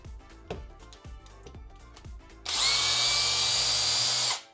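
A Maker Pro 17-in-1 tool set sander switches on and runs loudly and steadily for about two seconds before cutting off, following some handling knocks and clatter.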